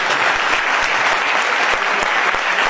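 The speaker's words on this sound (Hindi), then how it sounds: "शाबाश, जोरदार तालियां बजाएं भाई" A crowd claps hard and steady at a motivational talk, a dense continuous wash of applause filling the whole short stretch without pause.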